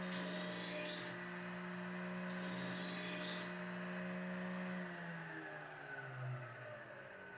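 A knife scrapes across a ceramic sharpener in two quiet, separate strokes over a steady background hum.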